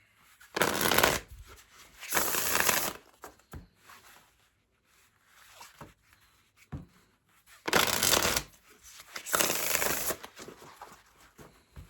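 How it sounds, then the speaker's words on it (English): Tarot cards are riffle-shuffled in two pairs of quick, crisp bursts, separated by a quieter stretch of soft handling and tapping. "Let's get 2 more shuffles for Libra."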